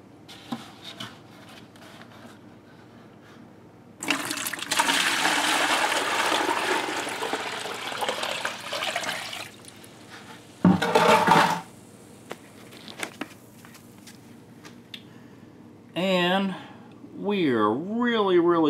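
Water scooped out of a shower drain pan is emptied back into a bucket, a rushing, splashing pour lasting several seconds, then short sloshes and a brief voice near the end.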